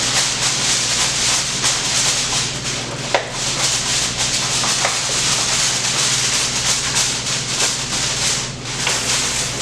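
Heavy foil is pulled and wrapped tightly over a tray of pulled pork in a kitchen, giving a steady rubbing, crinkling rustle with a few sharper crackles, close and continuous over a low background hum.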